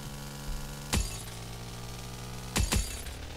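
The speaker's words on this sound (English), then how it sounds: "Nice glass smashing sound with that" Car crashing into trees in the Factorio video game, with three sharp glass-smashing crashes, one alone and then two close together, cutting through a steady droning engine hum, no talking.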